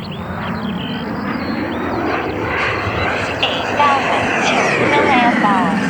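A Black Horse Viper 1.88 m electric jet model with a 120 mm ducted fan on 12s Li-ion batteries flies past with a loud, steady whine and rushing roar that swells and shifts, while people talk over it.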